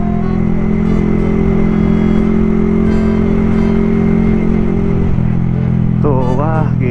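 A motorcycle with a stock engine and a racing exhaust, ridden on an early-morning solo ride in Pekanbaru, holds a loud steady drone close by, then revs up in a couple of rising surges near the end.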